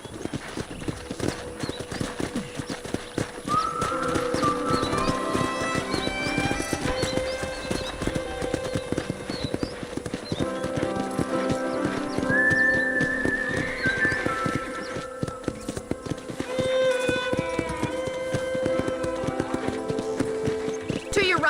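Steady clip-clop of horse hooves throughout the video game Red Dead Redemption, with occasional neighs and whinnies, under ongoing talk and a soft musical backdrop.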